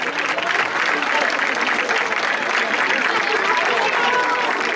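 Applause from the audience at a Sant Jordi event in Catalonia as presenters receive flowers, a steady, dense clapping that fills the room for the full stretch, with faint crowd murmur underneath.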